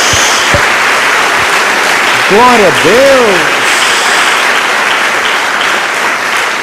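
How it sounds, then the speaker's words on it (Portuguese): A church congregation claps steadily and loudly throughout, a dense wash of applause with a voice calling out over it partway through. "Dê uma salva de palmas a Jesus."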